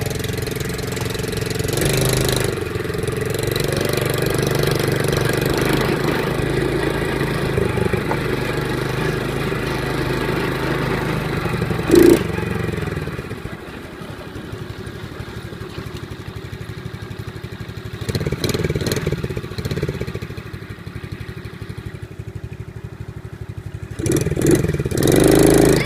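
Small Honda clone four-wheeler ATV engine running steadily, close and loud, with a brief dip midway and a few revs near the end.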